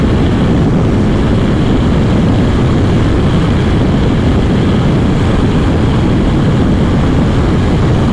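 BMW F900 XR motorcycle engine under way on a ride, a loud continuous drone with heavy rumble and wind, steady throughout with no speech.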